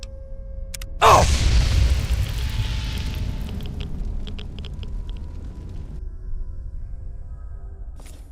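A burst of radiation erupting from a pillar in the video game Fallout 3: a sudden loud whooshing boom that trails into a long, rumbling, fizzing roar, slowly fading with faint tonal chimes over the top.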